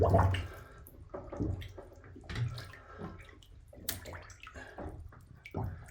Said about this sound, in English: I'm just going to dunk the whole thing in. Let everything fill up with water.